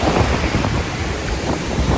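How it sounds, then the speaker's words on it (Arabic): Steady roar of surf washing in, with wind buffeting the microphone; continuous broadband rush with soft swells, no voices. "سامعين صوت الموج ده بيجيب راحه نفسيه"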